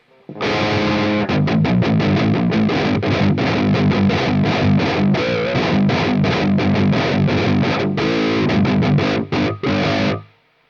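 A heavily distorted seven-string electric guitar through an amp plugin plays dense, chugging riffs for about ten seconds, with a few quick stops and choppy palm-muted bursts near the end.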